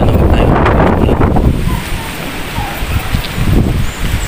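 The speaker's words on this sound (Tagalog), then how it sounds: "Lakas ng hangin" Strong wind batters the microphone with loud, rumbling gusts that surge and fade throughout.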